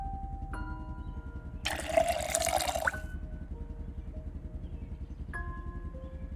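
Water pours into a container for about a second in Project Zomboid, a loud burst of splashing fill rising over a steady low ambient hum, with soft beeps at the start and end.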